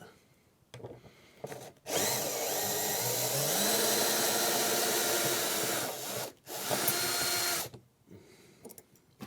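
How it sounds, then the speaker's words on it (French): Power drill whirring steadily as it backs out a screw, one long sustained run of several seconds followed by a shorter burst, close and loud. "Je dévisse."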